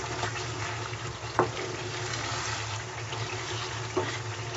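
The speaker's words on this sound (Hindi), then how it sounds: "और चम्मच चलाते रहेंगे भूनते वक्त।" A spoon stirs chicken karahi as it fries in a pan, with a steady close hiss of frying and a couple of sharp scraping clicks from the spoon.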